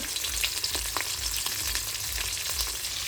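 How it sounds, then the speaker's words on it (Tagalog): Dried salted fish (tuyo) sizzles and crackles steadily as it fries in oil in a pan, with scattered pops over a continuous hiss and no talking. "pritong tuyo"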